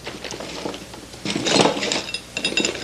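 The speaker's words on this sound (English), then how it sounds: "Get out some more of the nice CAD-plated clamps if you still have some left." Cadmium-plated metal clamps clink and clatter as they are picked out and handled, in close bright jangling bursts with a louder cluster midway and no talking.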